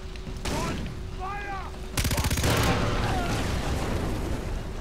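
Weapons fire in Far Cry 3 with Ziggy's Mod on hardcore, a burst of loud shots and booms arriving midway over a steady ambient bed, with bird-like chirps and tonal calls beforehand.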